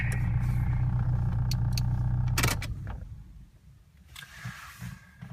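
Old Chrysler-era car horn, a weak buzzy beep held for about two seconds, then stopping; quieter clicks and rustles follow.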